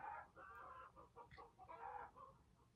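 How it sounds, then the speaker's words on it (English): Chickens behind a wall cluck and squawk in agitated bursts, muffled and fairly faint, with overlapping calls from several birds. "you can probably hear the chickens freaking out in the background"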